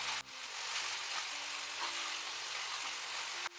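Korameenu fish egg curry cooking in a pan, a dense close sizzle and bubbling hiss continuing steadily with a brief clatter near the start and end.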